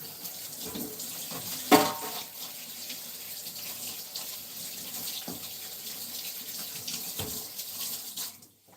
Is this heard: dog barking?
no